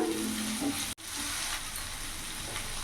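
Onions and freshly grated ginger fry in a pan with a steady, close sizzle that keeps up throughout, broken once by a brief dropout, with no talking.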